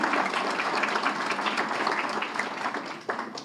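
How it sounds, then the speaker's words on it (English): Applause from an evening fundraiser audience at a cultural center event, steady dense clapping from many hands throughout, moderately loud and continuous with no speech over it. "I would like also to extend an applause to Ivana"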